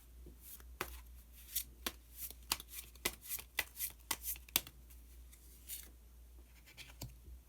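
Tarot cards being shuffled and one drawn, a run of crisp, rapid card snaps and flutters in quick succession, close and moderately loud, with no talking.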